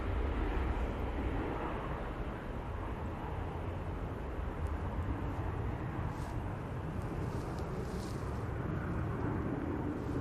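Airplane departing Manchester Airport, a broad steady roar of jet engines that rumbles low and fills the air evenly, sustained without pause and with no voices.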